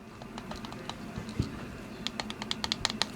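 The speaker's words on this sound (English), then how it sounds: "You can probably hear a little bit of the button clicky" Buttons on a Beyond Vape Tandem 75-TC box mod click in a quick string of sharp, close taps, sparse at first, then tighter and more regular toward the end.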